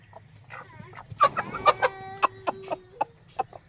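Chickens cluck and squawk close by in a burst of sharp calls, a one-year-old parrot-beaked rooster's drawn-out call standing out among the two hens.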